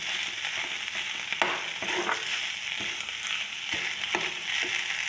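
A pan of frying eggs and potatoes gives off a continuous close sizzle, with a few soft stirring scrapes and clicks spaced through it.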